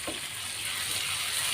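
Eggs sizzling in a hot pan as they are scrambled, a steady bright frying hiss running close and even throughout with no talking.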